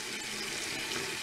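Tap water runs steadily into a sink while a paintbrush is washed with shampoo, a constant close splashing hiss with no speech.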